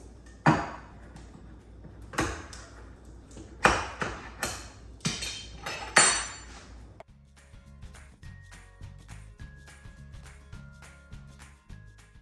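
A can of cream of mushroom soup being emptied into a crockpot: several sharp metallic taps and thuds as the can is knocked and scraped, followed by quieter soft clinks and a thick glopping slide.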